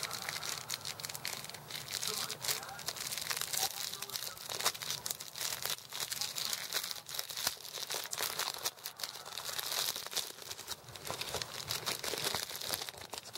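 A small cute packet from a pocket-letter swap crinkles and rustles steadily as it is handled up close, with a continuous papery crackle throughout.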